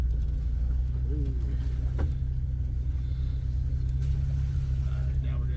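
A 2001 Jeep TJ rolls along in four-wheel drive high, its engine giving a steady, loud low rumble that holds through the whole stretch with a brief knock near the middle.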